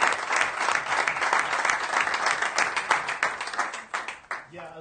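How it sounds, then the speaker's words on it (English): An audience at a breakfast talk bursts into a round of applause, loud continuous clapping from many people that thins into scattered claps and a few voices near the end. "Think a round of applause is necessary"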